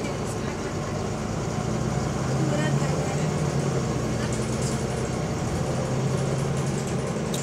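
A ZF-geared Enviro 400 bus drives on route 486, its engine a steady loud rumble under continuous road and cabin noise from inside the vehicle, with a faint rising whine as it pulls along.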